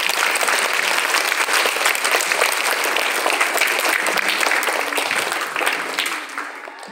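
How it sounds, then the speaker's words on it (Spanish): Sustained loud applause from a large crowd at a primary school flag-bearer ceremony, steady clapping throughout that fades slightly toward the end. "Lo celebramos con un fuerte aplauso."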